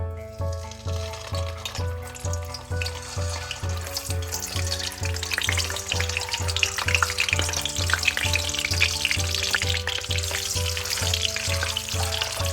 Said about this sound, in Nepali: अब म यसमा राख्दैछु यो अन्डालाई।